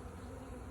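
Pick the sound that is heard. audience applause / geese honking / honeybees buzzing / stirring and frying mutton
honeybees buzzing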